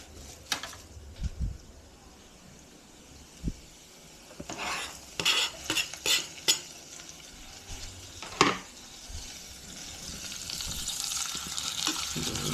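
Garlic stirring in a frying pan for adobong atay at balunbalunan, scraping clatters and soft sizzle in scattered bursts, with a steadier frying hiss building toward the end.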